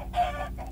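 Blocky Minecraft chickens cluck in a short, close burst of clipped calls, with no voices over them.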